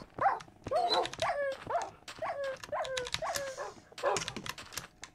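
Pet dogs in Minecraft bark in a quick series of sharp, close yips, roughly eight or nine across a few seconds, with short gaps between them.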